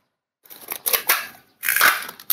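Packing tape is pulled off the roll and cut while an aglonema plant clump is prepared for shipping, giving close, sharp tearing and crunching bursts separated by short pauses.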